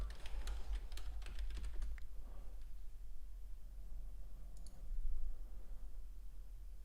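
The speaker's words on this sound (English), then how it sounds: "So just if you hear typing, that's just me making alerts" Quick clicking keystrokes on a computer keyboard for a couple of seconds, then a few fainter taps against a quiet background.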